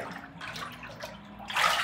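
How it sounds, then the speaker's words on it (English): Milky bath water draining out of a bathtub, a steady gurgling wash that is close and moderately loud, swelling near the end, with no speech. "Water's still draining."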